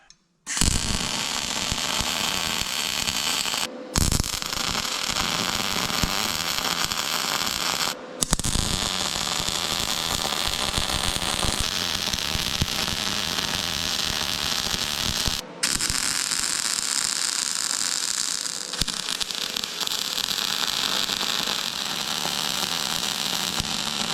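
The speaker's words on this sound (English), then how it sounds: "Now, we got the Harbor Freight welder again." A Harbor Freight welder joins tool steel from a grader blade to mild steel, giving a loud, continuous crackling buzz that runs in long stretches broken by a few brief stops.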